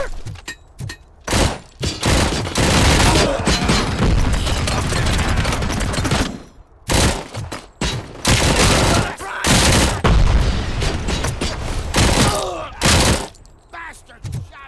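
Heavy gunfire in RoboCop: Rogue City: dense, loud automatic volleys in long bursts with booming impacts, broken by short silent gaps and punctuated by sharp single shots.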